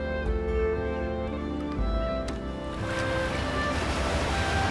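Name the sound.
ocean waves in the video game Unravel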